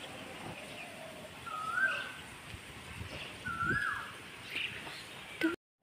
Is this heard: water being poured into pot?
no